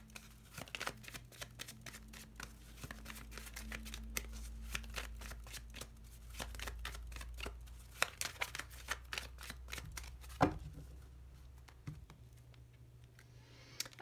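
Lenormand cards being cut and shuffled by hand, a quiet close run of rapid papery riffles and flicks with scattered taps, no talking.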